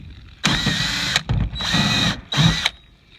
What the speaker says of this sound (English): We're going to drill once again.